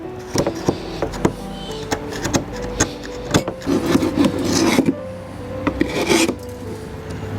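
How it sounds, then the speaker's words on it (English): A sharp chisel chips rock-hard old glazing compound out of the glazing bed of a historic wooden window: repeated close scraping and rasping strokes with sharp knocks, fairly loud and busy, with no voices. "You can pretty much just chip that out with a sharp chisel."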